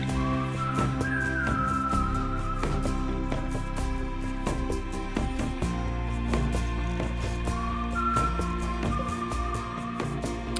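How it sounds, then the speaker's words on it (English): A tuneful whistled melody in a video game, with a few rising whistle phrases repeating over a dense, steady backdrop of game music and ambience. "But then the whistling starts."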